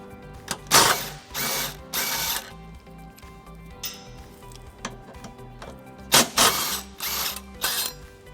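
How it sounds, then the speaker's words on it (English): A hand ratchet with a 17mm socket loosens the two tow hook bolts on a 2017 Lexus RX350, giving close bursts of quick clicking separated by pauses, with small clanks of tools between them. "Using a 17mm socket, we're going to go ahead and remove these two bolts that are holding the tow hook in place."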